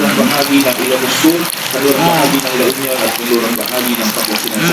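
Tap water running and splashing steadily while food is washed for cooking pakbet, close and continuous throughout, with voices talking over it.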